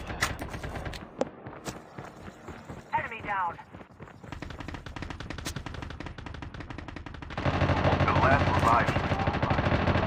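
Rapid automatic gunfire from the Call of Duty Mobile shooter game crackles in dense bursts, building to a loud sustained stretch near the end, with players talking over it.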